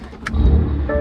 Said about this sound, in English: let's go ahead and move the giveaway car first